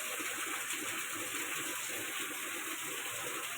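A downpour of heavy rain carries on in a thick, even roar of running, gushing water, close by and with no voices.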